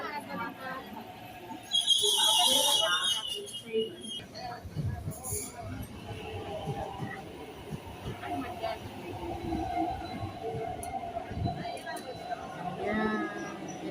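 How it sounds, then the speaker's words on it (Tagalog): A train pulls in at Tai Po Market station platform in Hong Kong, a low rumbling rail noise with squeaks and a loud platform announcement chime, while people talk nearby over the steady station din. "Yan yung train sa kabila."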